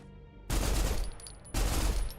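Gunfire from a tower defense minigame in a video game: two loud, dense bursts of shots, each lasting about a second with a short pause between them, over a low steady hum.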